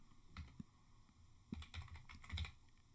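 Computer keyboard keys clack in short irregular bursts, close and fairly quiet, with no voices over them.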